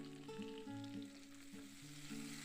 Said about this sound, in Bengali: নেড়ে চেড়ে নিয়ে আলুটা একটু ভেজে দিচ্ছি